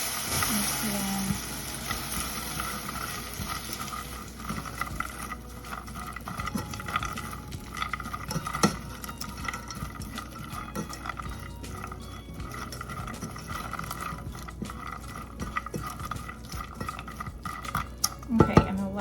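A spoon stirs vanilla extract into a sticky cereal coating in a pot just off the heat, with scraping, clinks against the metal and soft wet mixing sounds, fairly close.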